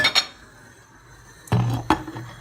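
A metal lid clanks down onto a pot of chicken breast for chicken soup, two quick clinks followed by a rattling settle, close by with faint clatter before.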